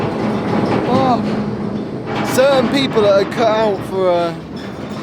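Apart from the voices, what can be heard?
freight train rolling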